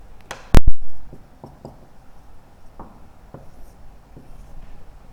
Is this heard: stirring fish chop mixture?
no